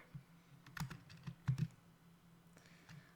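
Keys clatter on a computer keyboard while typing code, a few quick irregular bursts of close, quiet clicks separated by short pauses.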